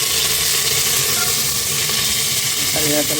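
Curry leaves crackle and sizzle in hot oil already holding mustard seeds and dried chilies, a dense steady frying hiss that stays loud and close throughout.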